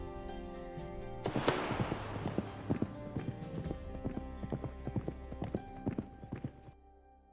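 Horse hooves clip-clopping in the strategy game Citadelum, a steady run of sharp, fairly close hoofbeats with occasional whinnies over a low in-game ambient bed.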